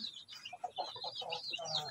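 Native and Brahma chickens clucking in a backyard pen, soft irregular clucks and a few thin chirps at close range, quiet and intermittent.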